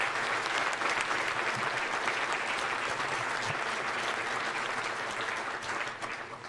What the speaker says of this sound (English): A round of applause for them, please.